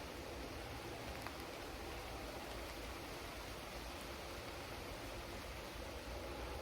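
Steady rain falls in a dense, even hiss that holds at a constant level throughout, with no break in the wash of sound and no voices.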